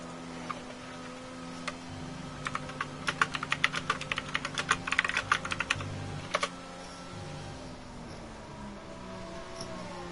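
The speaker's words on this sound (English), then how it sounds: "Sorry if you can hear my keyboard, hopefully not too loud." Typing on a computer keyboard during a racing game session, with sparse keystrokes at first, then a dense run of rapid, close clicks before the typing fades, over a steady hum.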